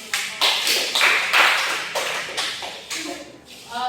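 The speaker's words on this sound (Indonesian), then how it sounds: "Kita berikan aplaus" Loose, uneven clapping from a classroom group greets a student group, with several close claps and shuffling, and a voice briefly heard at the end.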